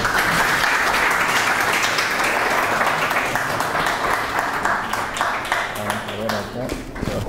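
A lecture audience at a sociology talk on nanotechnology researchers in Peru gives a steady, full round of applause that continues for several seconds and thins slightly toward the end.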